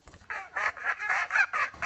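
A rapid run of about seven loud, nasal duck quacks, close by, one after another with barely a pause between them.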